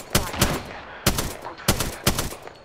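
Video game gunfire rings out in quick bursts, about five or six loud, close, cracking shots in uneven pairs, each with a short echoing tail.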